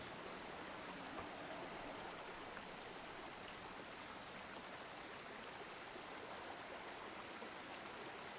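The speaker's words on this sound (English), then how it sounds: "Oh, waterfalls." A waterfall in the video game Guild Wars 2 gives a constant, even rush of splashing water, a broad hiss that holds steady throughout with no voices over it.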